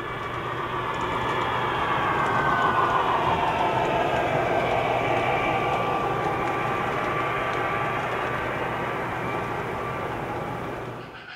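An O gauge model train rumbles steadily past on a layout with a dense rolling roar and faint metallic squeals, holding loud for several seconds before easing off.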